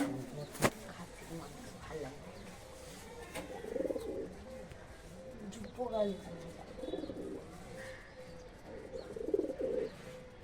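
Soft, low coos of red-necked Sylheti high-flying pigeons repeat in short bursts nearby, mixed with rustling and a faint voice in the background.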